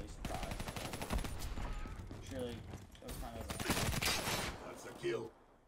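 Rapid CUDA gunfire from Black Ops 3 Team Deathmatch rattles in quick bursts alongside other game effects, with a player talking over the shooting throughout.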